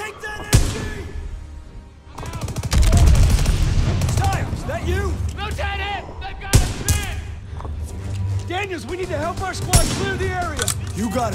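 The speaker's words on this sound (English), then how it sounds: "Gunfire! It must be near our guys." Gunfire in the Call of Duty WWII video game, rapid loud shots and bursts crackling throughout, layered with battle noise and game dialogue.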